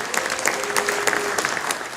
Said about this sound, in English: Give me a show of hands or applause